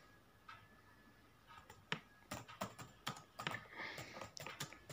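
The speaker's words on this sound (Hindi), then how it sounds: "हम लिखते हैं थोड़ा फास्ट टाइपिंग करते हैं" Quick, light keystrokes rattle on a computer keyboard in an irregular run of close clicks that grows denser toward the end, over a quiet room background.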